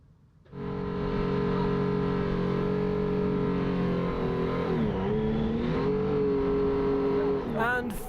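A Formula Student race car engine revs hard and holds a loud, buzzing drone, then dips and rises again as the car pulls away.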